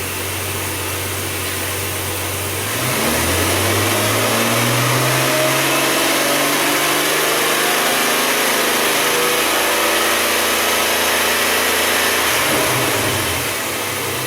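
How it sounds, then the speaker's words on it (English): A Ford Taurus engine that is running lean idles low, then revs up as the throttle is bumped, holding a steady higher whine before dropping back toward idle near the end. "I'm gonna go bump the throttle up a little."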